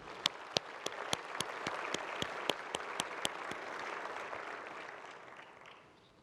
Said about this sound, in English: Can I have a quick round of applause for Jim